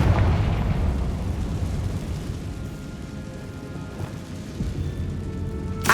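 In the video game Hogwarts Legacy, a Confringo spell bursts in a tomb with a loud boom, followed by a long rumbling, crackling decay that fades over several seconds.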